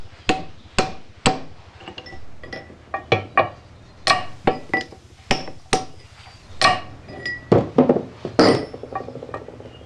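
Chisels are struck repeatedly against metal to free a bearing in a Series 1 Land Rover gearbox, giving sharp, ringing clinks at an irregular pace, loud and close with no talk.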